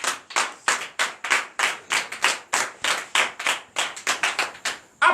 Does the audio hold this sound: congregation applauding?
yes